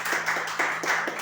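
Church congregation applauding together, a dense, steady wash of many hands clapping at close range, swelling in waves throughout with no speech over it.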